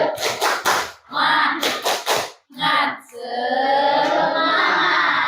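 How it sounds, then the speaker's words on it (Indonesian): Brisk rhythmic clapping from a group, bursts of claps in a pattern, followed by children chanting together loudly in unison. "Coba tepuk semangat."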